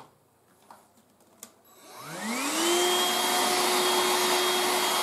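A Tefal Dual Force TY6751 cordless stick vacuum starts up after a couple of faint clicks, its motor whine rising in pitch over about a second and then settling into a loud, steady airy roar close by.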